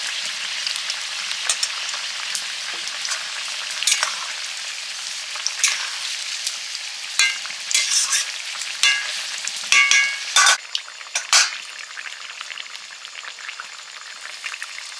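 Sliced pointed gourd frying in a pan for a Bengali poppy-seed dish, a steady close sizzle with crackling pops and occasional stirring scrapes growing busier toward the end.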